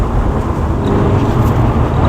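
A car driven hard at speed on an open road, heard from inside as a steady, loud low rumble of engine and road noise that runs unbroken throughout.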